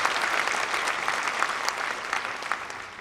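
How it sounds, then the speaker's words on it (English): An audience in a theater applauds a tribute to Ken Brenneman at a Mickey Rooney show, a fairly soft, steady patter of many hands clapping that continues throughout. "A round of applause, please, for Ken Brenneman."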